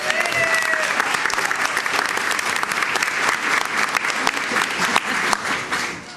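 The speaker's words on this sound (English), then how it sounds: "Can we give them a round of applause?" Sustained applause for teachers fills a school board meeting room: a dense, even wash of many hands clapping that tapers off in the final second.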